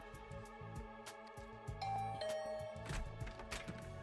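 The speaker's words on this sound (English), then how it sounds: "Rang the doorbell and waited." A doorbell chime in the video game The Hundred Line: Last Defense Academy, a soft ding-dong ringing over quiet background music.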